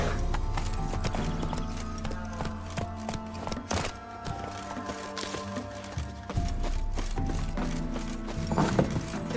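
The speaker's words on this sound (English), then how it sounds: "Run, Roach." A horse gallops in the Witcher 3 video game, its rhythmic hoofbeats pounding steadily and loud throughout, with a brief whinny-like flourish and no talking.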